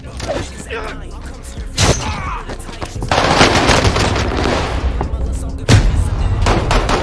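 Rapid gunfire from an STG 44 rifle in the video game Warzone, loud bursts of automatic fire with impacts and thuds, while a player's voice talks over the action.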